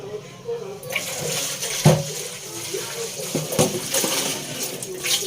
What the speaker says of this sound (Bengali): মাছটা আগে ভালো করে চকচক করে ধুয়ে নিচ্ছি।